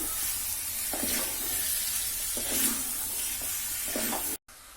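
Chicken pieces sautéing in a hot pan give a loud, continuous sizzle and hiss, with a few stirring scrapes on top before a brief cut near the end.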